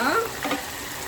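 Grubs deep frying in hot pork fat, a bright close sizzle with a brief louder burst at the start, then settling into a steady crackling hiss.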